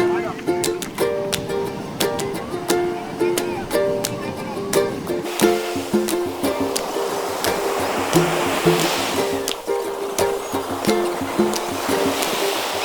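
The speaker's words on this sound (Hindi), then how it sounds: "अरे भैया लहरें देख रहे हो, लहरें।" Ocean waves break and wash up on the beach at Puri in a continuous broad roar, with people talking over the surf throughout.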